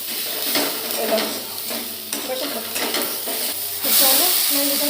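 Spiced vegetables frying in a pan while being stirred, loud close sizzling with repeated scraping strokes against the pan, the hiss swelling louder near the end.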